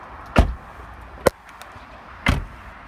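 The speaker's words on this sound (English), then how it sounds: "I'll go around, that way I can shut the doors" Doors of a 2006 Lincoln LS sedan are shut three times, each a sharp, solid thud close by, spaced roughly a second apart with quiet between.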